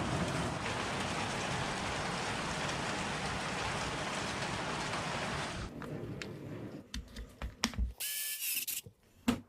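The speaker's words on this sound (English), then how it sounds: "And here comes the rain." Steady, dense rain hiss fills the first half, then thins out into scattered knocks and clatter with a brief bright squeal near the end.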